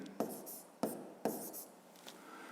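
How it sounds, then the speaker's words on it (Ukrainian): A number written on a coordinate line in a maths exercise: three crisp pen or marker strokes scratched close by, each a short scrape with a brief pause between, then a fainter final stroke. "І записуємо на координатному промені число 74"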